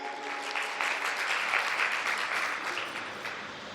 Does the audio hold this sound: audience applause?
yes